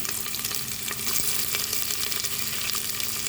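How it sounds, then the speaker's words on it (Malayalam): Onions sautéing for a beef curry sizzle and fry steadily in a hot pan, a dense, even hiss with occasional stirring scrapes, close and continuous, with no talk. "സവോള ഞാൻ വഴറ്റുന്നു"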